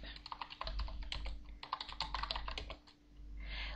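Rapid, close clicking of a computer keyboard as commands are typed into a text-based game, keystrokes tapping in quick uneven bursts before a brief pause near the end.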